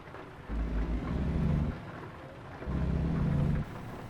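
Steady rain hisses in American Truck Simulator during a daytime drive toward New Mexico, with a low rumbling swell rising twice under the constant wash, no talk.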